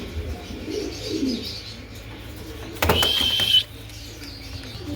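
A female red magpie pigeon gives soft low coos, a couple of gentle murmuring calls early on, followed by a brief sharper chirping burst nearby against quiet background.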